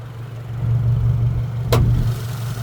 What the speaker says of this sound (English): the idle has gotten a bit quieter now that the vehicle's warmed up a bit